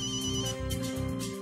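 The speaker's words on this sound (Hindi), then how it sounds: "इस टाइम किदा फोन आ गया?" A phone ringtone plays a steady electronic melody, close and clear, with no talking.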